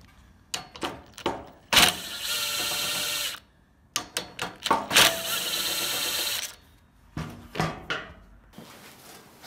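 Screws being removed from a torpedo heater with a power drill, several short whirring bursts separated by pauses, including two longer sustained runs, close and fairly loud with no talking.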